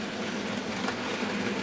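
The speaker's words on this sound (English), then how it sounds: "Just passing shot now is a Bachmann Class 25" A Bachmann Class 25 model diesel locomotive in BR green livery runs past on a loft model railway, giving a steady, close rumble with faint rail clatter throughout.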